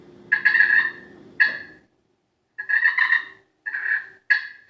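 Slate-over-wood turkey pot call worked near the edge of the pot, producing raspy purrs and short sharp clucks in separate bursts, close and clear with no talking.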